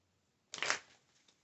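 A short riffle of tarot cards being shuffled and drawn, a single burst of papery rustle lasting under half a second and then fading into faint trailing flicks.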